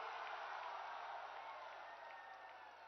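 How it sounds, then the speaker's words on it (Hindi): Crowd at an outdoor political election rally in Jamui, Bihar, applauding loudly for the Prime Minister: a dense, sustained wash of clapping with a faint cheer, heard through a band-limited PA feed and slowly easing off. "एक बार जोरदार ताली से"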